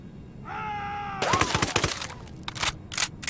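Gunfire in the Ghost Recon Wildlands video game: after a brief tonal in-game sound, a burst of rapid automatic shots, then a couple more short bursts, loud and close with game ambience underneath.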